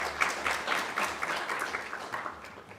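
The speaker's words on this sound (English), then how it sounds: "Give yourselves a round of applause for being here on a Saturday" Audience at a San Diego County supervisor debate gives a moderate round of applause, steady scattered clapping filling the room at even level throughout.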